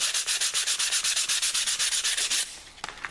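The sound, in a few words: sanding modeling foam with 240-grit abrasive paper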